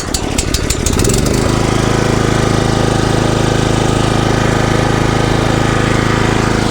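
A Harbor Freight 8HP towable backhoe engine fires on the first pull, sputtering briefly before settling into a loud, steady, close rumbling run that continues unbroken.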